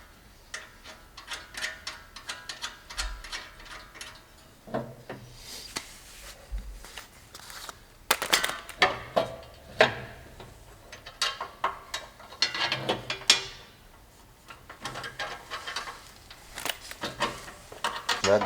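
A hand ratchet tightens a nut while mounting a John Deere chute blocker, giving bursts of quick, close clicking with pauses between strokes and a few louder metallic knocks.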